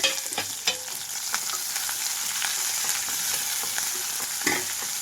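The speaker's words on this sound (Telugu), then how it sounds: "కట్ చేసి పెట్టుకున్న ఉల్లిపాయలు అలాగే పచ్చిమిరపకాయలు కూడా వేసి వేయించుకుంటున్నాను" Chopped onions and green chillies frying in hot oil after tempering seeds for fenugreek-leaf dal, a close, steady sizzle broken by spatula scrapes and stirring clatter.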